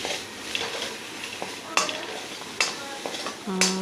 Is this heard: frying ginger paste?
yes